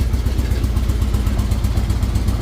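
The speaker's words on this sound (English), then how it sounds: "This thing's idling a lot better than what it was." A 2003 Harley-Davidson Road King engine with a freshly cleaned carburetor idles close by with a steady, rapid low chug and slight rattle, loud and continuous.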